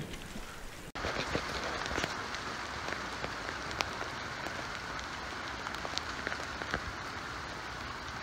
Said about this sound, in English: since it's raining fucking water balloons out here